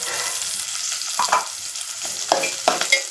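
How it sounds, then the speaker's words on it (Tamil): Small onions sizzle steadily in hot oil with green chilies in a pan, a bright continuous frying hiss broken by several sharp scraping stirs of a spoon, close and alone. "சின்ன வெங்காயம் அதை போட்டுக்கிறேன்."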